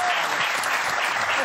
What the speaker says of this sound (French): Non, mais on peut l'applaudir.